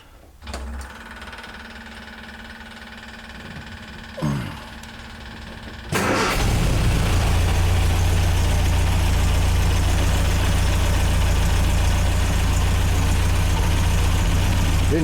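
An MGA engine cranks with the starter a few times, then catches at about six seconds and settles into a loud, steady rough idle that continues to the end.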